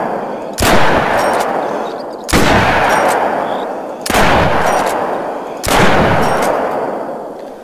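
A lever-action rifle fires four loud, evenly spaced shots at a shooting range in the hunting game theHunter: Call of the Wild, each blast sharp and close with a long echoing tail and no voices.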